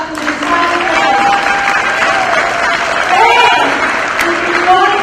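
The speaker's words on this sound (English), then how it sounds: "Can we give a round of applause to this family?" A crowd applauds a family at a high school national signing day ceremony, steady clapping and some cheering, with voices talking over it throughout.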